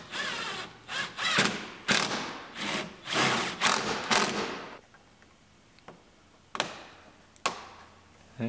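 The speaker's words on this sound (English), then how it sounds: "Put our bolts in the pull handle." Bolts being driven into the pull handle of a 2019 Ford Explorer during repair, a power tool or ratchet whirring in short repeated bursts, then a few sharp isolated clicks after a pause, close and fairly loud.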